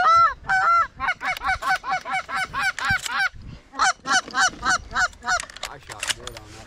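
Geese honk loudly and close during an evening goose hunt, a rapid run of repeated nasal calls that pauses briefly and then resumes in another quick series.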